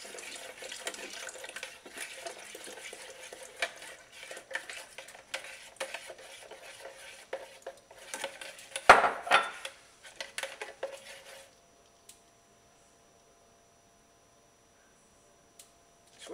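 Cold milk poured into a goat milk and clay soap mixture and stirred, with soft scraping and clinking of a utensil against the container, one sharp knock midway, then near silence.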